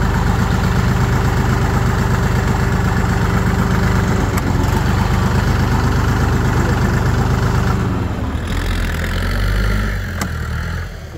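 A tractor engine runs loud and close, a steady heavy idle rumble held for about eight seconds before the tone shifts and drops slightly, then carries on.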